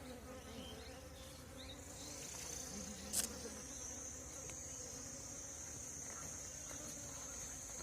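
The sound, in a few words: Asian honeybees (Apis cerana) buzzing in a basket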